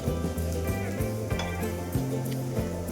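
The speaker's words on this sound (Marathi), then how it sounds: "तेल तापलं की आपण त्यात एक एक करून सगळे कटलेट सोडून घ्यायचे आहेत." Potato and sweet potato cutlets frying in hot oil in a pan, a steady close sizzle and crackle running throughout, with no talking.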